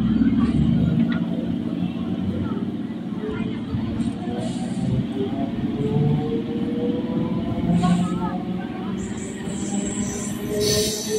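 A local train pulls out of New Garia station on the Sealdah–Sonarpur line, with a steady rumble of wheels on rails and faint squeals, all close and continuous under a voice.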